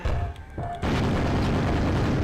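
A grenade goes off in Quake on the Sega Saturn with a sudden, heavy boom. A dense, roaring blast follows and fills the rest of the short moment at full loudness.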